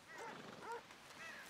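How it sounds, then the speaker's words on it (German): Dogs in the video game Red Dead Redemption 2 give several short yelping barks in quick succession, moderately distant, over soft background ambience. "Da hört man schon die Hunde."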